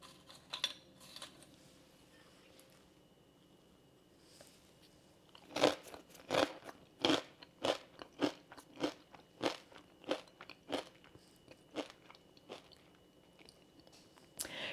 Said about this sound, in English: I'm going to go ahead and dip this with the tzatziki crisps.